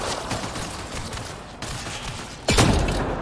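Shotgun fired in the video game Mass Effect Andromeda: a single loud, close blast with a sharp attack and booming tail, following a few fainter distant gunshots over dense battle ambience.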